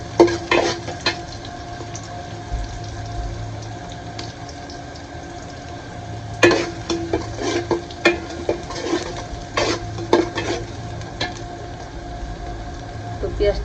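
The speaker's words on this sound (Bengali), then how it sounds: "মাংস এখন পেঁয়াজটা ভেজে দেবো" Oil sizzles steadily as onions fry, with scraping and clinking from stirring now and then over a low constant hum.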